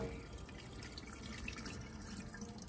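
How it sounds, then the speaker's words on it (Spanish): Cold tap water runs over broccoli draining in a colander at a kitchen sink, a steady close splashing and dripping with no talk. "Aquí drenamos el brócoli y también le voy a poner a este agua fría para enfriarlo más rápido."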